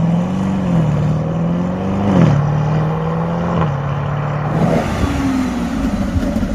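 A Lamborghini Revuelto speeds past nearby, its engine note a loud rising and falling whine that sweeps through gear changes, with the roar swelling and then fading away.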